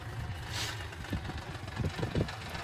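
A farm tractor's engine idles with a steady low, throbbing rumble and a few soft knocks and clunks on top, close by and continuous, in a Punjab farmyard.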